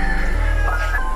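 A chicken gives a short, loud cluck or crowing call up close, with a buzzy low hum underneath lasting about a second.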